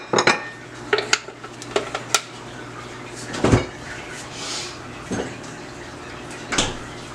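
Almond milk stirred into a roux in a pot for a cheesy breadfruit pie, with sharp clinks and scrapes of a utensil against the pot scattered at irregular intervals and quieter liquid sloshing between them.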